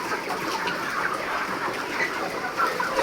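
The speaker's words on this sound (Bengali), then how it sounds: "44 দিন বয়স আজকে মুরগির।" Broiler chickens on a poultry farm cluck and murmur continuously in a dense, moderately loud flock chorus with scattered higher calls.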